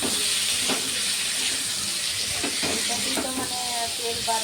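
Steady, close sizzling of food frying in a pan, with a few light clatters from stirring.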